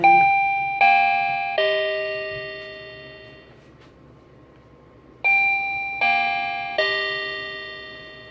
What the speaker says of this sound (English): so that's what your chime sounds like